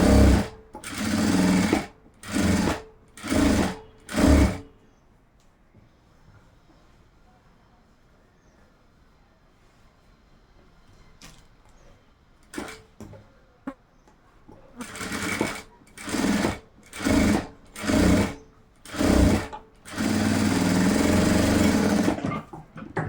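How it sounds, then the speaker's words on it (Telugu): A sewing machine runs around a blouse neckline in short, sharp bursts, stopping for a long quiet stretch before several more quick bursts and a longer continuous run, loud and close, with soft talk in the pauses. "మనము నెక్ చుట్టూరు ఒక కుట్టు అయితే వేసేసుకొని తిరిగి చేసుకోవాలి"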